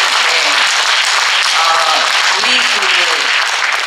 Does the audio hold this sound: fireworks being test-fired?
no